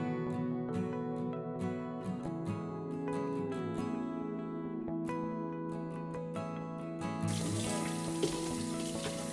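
Tap water runs steadily into a pot being readied for cooking green beans in a home kitchen, a soft, continuous trickle that turns into a broader rushing splash near the end.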